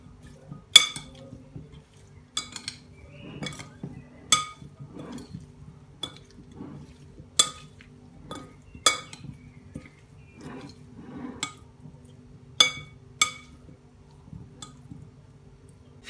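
A utensil stirring boiled potato salad with lemon juice, onion, salt and parsley in a bowl, giving sharp intermittent clinks and taps against the dish over soft, wet mixing sounds, close and fairly quiet.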